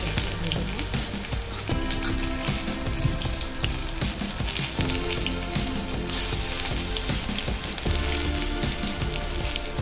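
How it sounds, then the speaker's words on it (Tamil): Raw plantain slices fry in hot oil with a loud, dense, continuous sizzle and crackle that holds steady throughout. "எண்ணெய் சூடானதும் ஏழு நிமிஷம் ஊற வச்சுருக்கிற வாழைக்காயை ஒன்று ஒன்றா எண்ணெய்க்குள்ளே போடுங்க"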